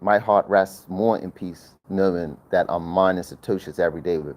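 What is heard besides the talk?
None of the usual background noises is heard.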